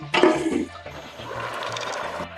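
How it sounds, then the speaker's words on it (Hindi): Chicken stock (yakhni) for pulao starts boiling in a pot, with a brief clatter of a lid or utensil, then a steady close bubbling hiss that continues to the end. "यखनी को जोश आ गया है।"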